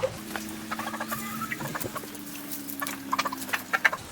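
Chickens cluck softly and peck and scratch with light, scattered taps and rustles, over a low steady hum in the background.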